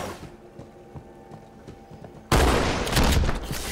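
A shotgun blast in Halo 2 Anniversary lands loud and sudden after quieter game noise, followed by a sustained roar of firing and effects.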